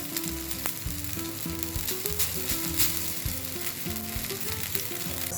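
Ghavane, a thin rice-batter pancake, cooks on a pan over a medium gas flame, a strong continuous sizzle and fry close by, with occasional light scraping of a spatula loosening the edges.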